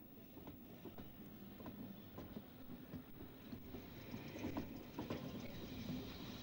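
A steam tank locomotive pulling a train rolls into Belmont station with steady rhythmic clatter of wheels over rail joints, a continuous mechanical rumble growing slightly louder toward the end.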